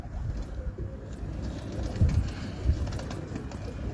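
Pigeons from a prized bloodline loft in Karachi coo softly, with a couple of low throaty coos rising around the midpoint over steady background hum and faint outdoor noise.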